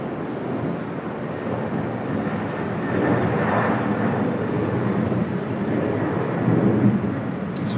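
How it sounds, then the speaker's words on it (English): China Airlines Boeing 777-300ER jet taxiing at LAX, a steady broad engine roar held at a moderate level throughout, swelling slightly midway and again near the end, with no talk. "It's China Airlines Flight 5 heading back to Taipei. It's a 777-300ER."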